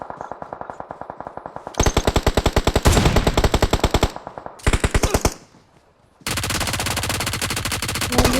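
Bursts of rapid automatic gunfire from a video game firefight come loud and close in several long volleys separated by short gaps, with one brief quiet stretch before the firing resumes.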